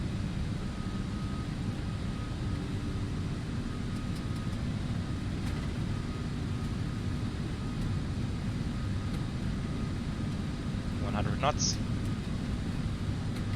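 Jet engines of an Aerosoft A330 in Garuda Indonesia livery roar steadily as it accelerates down the runway on its takeoff roll in Prepar3D, a constant broadband rumble with a voice talking over it.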